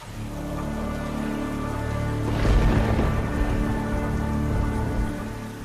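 Steady rain pours in a cartoon fairy tale about a fisherman's boat, a dense wash of falling water that swells louder midway with a low rumble before easing off.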